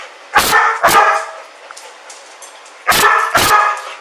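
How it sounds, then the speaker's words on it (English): A dog barks in a basement: two sharp barks, a pause with faint rumbling, then two more loud barks, close by and without talk. "let's watch Jane and her dog Cody down in the basement."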